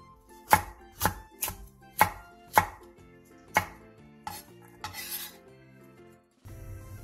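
A knife slices onions on a cutting board and then chops green onion, with about six sharp, evenly spaced thuds followed by softer, quicker cuts and a brief rustle, close and clear with no speech.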